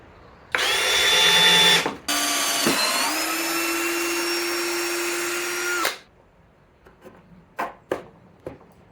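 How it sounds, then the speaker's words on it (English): A power drill drives a screw into 2x6 timber for an outdoor picnic bench, with a loud steady whine that rises in pitch, a brief pause, then a long run before stopping, followed by a few small knocks. "Just going to run a screw through just to hold it in place"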